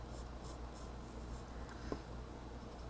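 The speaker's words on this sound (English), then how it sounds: "Just real quick with my pencil." Soft, quick scratching of a pencil moving across drawing paper while a mermaid drawing is being shaded, faint and close, with a brief stroke accent near the end and no voices.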